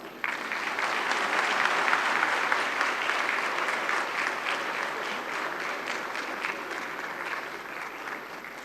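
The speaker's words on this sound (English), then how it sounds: "I request you all to welcome them with a round of applause" Sustained applause from a sizable audience at an international conference, steady and dense clapping throughout with no voices standing out.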